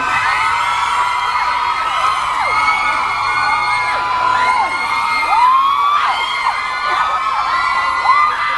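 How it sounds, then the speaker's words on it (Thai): Concert audience at a Thai pop show in a shopping-mall venue screams and cheers continuously, a dense, loud wall of shrill whoops and shrieks with rising yells swelling through, no talk over it. "หลายคนกรี๊ดประหนึ่งรู้แล้วว่าเพลงอะไร"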